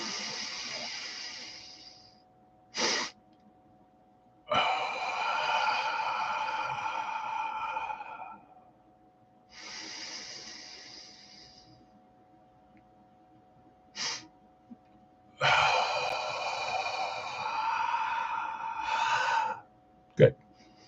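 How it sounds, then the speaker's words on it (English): Slow, guided breathing exercise with long audible inhales and exhales, each breath lasting a few seconds, separated by short pauses and a couple of brief sharp breath sounds, close and fairly quiet. "Let's start with our breathing exercise."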